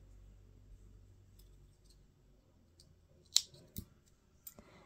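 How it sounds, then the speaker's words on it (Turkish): A single sharp snip of scissors cutting the end of lilac knitting yarn during two-needle seamless bootie knitting, a few faint clicks around it over a quiet room. "İlk ilmeğimi hemen ördükten sonra lila ipimin ucunu keseceğim"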